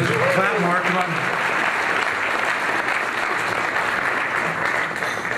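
A room full of guests applauds steadily at an evening event in the Museum of Flight marking Ethiopian Airlines' first Boeing 777-200LR delivery, dense clapping sustained throughout with a voice briefly audible early on.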